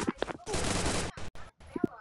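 Automatic gunfire in the Free Fire battle royale game: a dense, rapid volley lasting about half a second, then a few shorter bursts, with a voice briefly heard around the shots.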